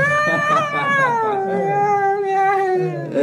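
A cat's meow: one drawn-out, wavering cry that slides downward in pitch and trails off over about three seconds, loud and close with no other sounds.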